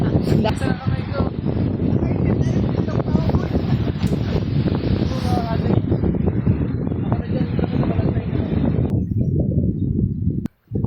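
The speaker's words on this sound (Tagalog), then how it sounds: "Ang lakas ng hangin" Strong wind buffeting a microphone at an outdoor camping spot, a continuous loud roaring rush lasting about nine seconds before abruptly dropping away.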